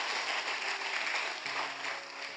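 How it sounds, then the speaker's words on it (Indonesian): Church congregation applauding for God during a sermon, a dense, steady wash of clapping from a large crowd, fairly loud and continuous throughout. "Tepuk tangan yuk sekali lagi yang paling meriah buat Tuhan kita"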